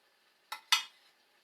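Two quick scraping clinks of a spoon against a baking pan as filling is scooped into zucchini boats, close and fairly loud, with near silence around them.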